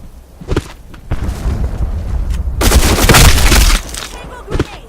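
A grenade goes off in Black Squad, a deep booming blast that swells and rolls for about a second amid thuds and footsteps, with game voices calling out around it.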